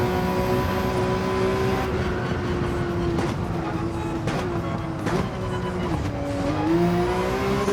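A race car in the Gran Turismo video game brushes a padded wall, with a couple of brief scuffs over a steady, loud engine drone that holds its pitch with slight dips and rises.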